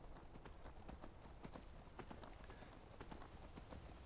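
Steady clip-clop hoofbeats of a horse galloping in a video game, a quick even rhythm that keeps going the whole time, quiet and heard on its own.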